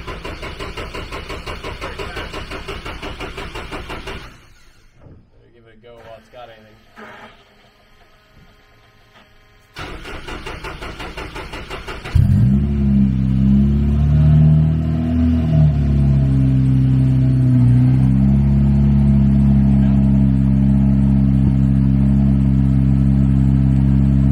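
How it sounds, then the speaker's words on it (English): A turbocharged Honda S2000 engine cranks over several times with pauses between, then catches and fires into a loud, steady idle with blips of revving, close up. "See if it starts. Crank it for a minute for some oil."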